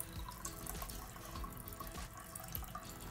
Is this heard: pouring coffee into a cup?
yes